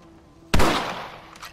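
A single sharp rifle shot cracks out in a Western-themed game, a sudden loud report that decays over about a second, with a faint follow-up echo behind it.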